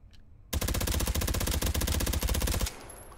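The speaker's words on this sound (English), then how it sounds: "You have a suppressor so that your brrrt can be a lot quieter." A suppressed Micro Uzi in the VR shooting game Hot Dogs, Horseshoes and Hand Grenades fires one rapid full-auto burst of about two seconds, a dense string of muffled cracks, then stops into quiet room tone.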